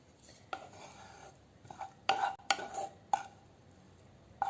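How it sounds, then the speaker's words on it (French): Onion and pepper mixture is spooned onto cooked dough: a few sharp spoon clinks and soft scraping taps against a dish, spaced irregularly, fairly quiet and close, with no talk. "j'ajoute dessus maintenant la préparation oignon avec les poivrons"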